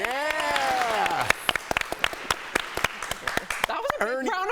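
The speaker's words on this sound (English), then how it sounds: "That was a big round of applause." A studio audience gives a big round of applause as a guest is welcomed onto a talk show; clapping builds under a speaking voice and continues in dense bursts while people talk.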